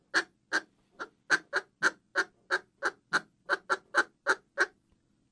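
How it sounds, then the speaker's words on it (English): Short, evenly spaced clucks from a Buck Gardner duck call, about fifteen crisp notes in a steady rhythm, close and clear with silence between them. "Easy call to operate. Clucks like."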